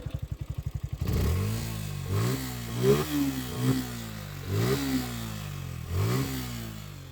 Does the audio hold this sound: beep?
no